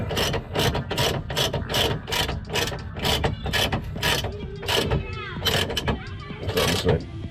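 A ratchet works in quick repeated bursts of sharp clicking while trailing arm bolts on a Subaru WRX are tightened, close up, with pauses and soft handling noises between strokes.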